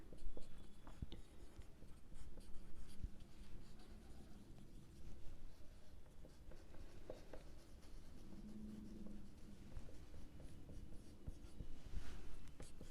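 Pen writing on paper during an accounting lesson, a steady close scratching of strokes continuing without pause, quiet and alone.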